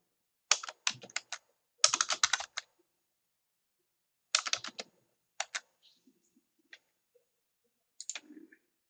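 Computer keyboard typing in short bursts of quick clicks separated by pauses, close and moderately loud, with a few isolated keystrokes near the end.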